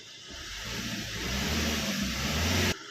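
A car engine, just restarted after a battery charge, runs steadily at a mid-pitched idle that swells slightly louder, then cuts off abruptly near the end; no talk.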